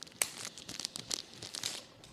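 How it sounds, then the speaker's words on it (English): A V-cutter snipping the cap of a Rare Pink figurado cigar: brief close crinkling and crisp tearing crackles over about two seconds, quiet and without speech. "I'm going to give myself a little V cut here"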